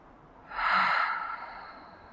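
A single deep inhalation during a yoga flow session, a soft breathy rush swelling over about a second and fading out, close and alone.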